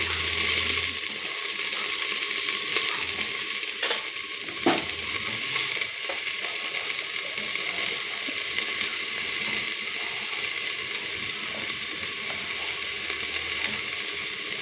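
Spices, turmeric and rice being stirred in a hot pan, a steady broadband sizzle with scraping stir sounds and a brief clink, continuous and close with no talking.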